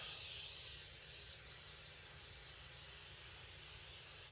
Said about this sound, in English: We are going to use a little bit of pan spray to keep it from sticking to our pan.